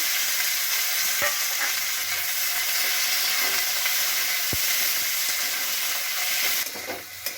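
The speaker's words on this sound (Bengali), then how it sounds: "আর এখানে কুচনো পেঁয়াজটা আমি তেলের মধ্যে দিয়ে দিচ্ছি। পেঁয়াজটা একটু লাল লাল করে ভেজে নেব।" Chopped onion fries in hot oil in a close, steady hiss and sizzle, with a couple of faint clicks and the sound thinning out near the end.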